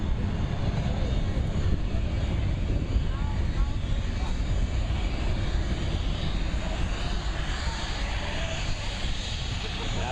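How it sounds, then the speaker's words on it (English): A C-17 military transport aircraft at an airshow makes a go-around at maximum power, a broad, steady engine roar that stays loud and even from start to finish. "form a go-around maneuver using maximum power to demonstrate its ability to depart an airport where enemy resistance is suspected"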